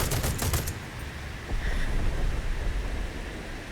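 Tank gunfire in War Thunder sounds as a quick burst of rapid close shots at the start, then gives way to a steady rumbling battlefield din with a fainter shot in the middle.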